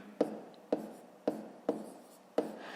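Hand-written numbers for a fifth-grade decimal subtraction and addition exercise, heard as five short, close pen or chalk strokes spaced about half a second apart, each a sharp tap trailing into a brief scratch, with no talking.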